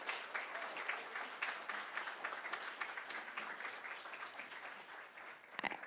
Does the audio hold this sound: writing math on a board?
no